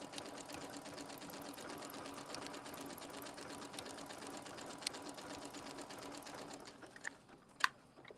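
A sewing machine stitches steadily at quiet volume for about six seconds, then stops, followed by a few faint clicks and handling sounds.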